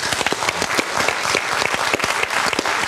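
An audience applauds a speaker, Bali bombing survivor Phil Britten, with dense, loud, close clapping that carries steadily across the short stretch.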